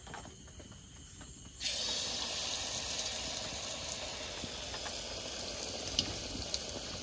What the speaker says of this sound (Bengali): তেলটা গরম হয়ে গেছে, এবার একটা একটা করে মালপোয়াগুলো ভেজে নেব